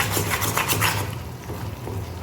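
A spoon scrapes and rubs continuously through thick Mysore pak mixture in a pan, a close, steady rhythmic stirring with no voices.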